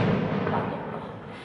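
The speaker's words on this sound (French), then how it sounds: "c'est un pétard" A firecracker goes off outdoors: one muffled, rumbling burst that is loudest at the start and slowly dies away over about a second and a half.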